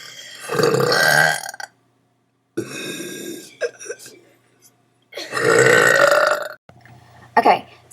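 A woman gives loud, drawn-out deliberate burps, two long ones each over a second, with shorter vocal bits and pauses between them, close and clear.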